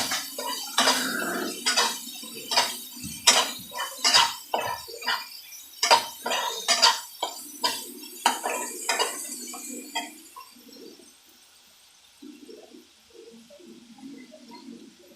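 A spoon mixes biryani masala in a pot, making a steady run of scraping, clinking strokes against the metal that fade to softer, sparser stirs near the end, close and clear, with no talking.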